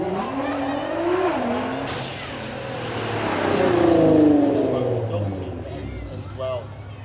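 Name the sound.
supercar accelerating around the track in a demo run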